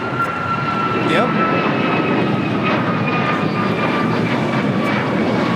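A United Airlines Boeing 737 MAX 9 jet taking off from LAX, a loud steady engine roar with a whining tone running throughout, while people chat briefly over it.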